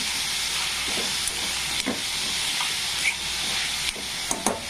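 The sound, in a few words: ridge gourd added to pan with dal, sizzling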